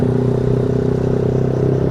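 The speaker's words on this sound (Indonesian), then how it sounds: "Itu knalpot standar." Motorcycle with its standard exhaust running at a steady, humming engine note, close and fairly loud, with no clear rise or fall.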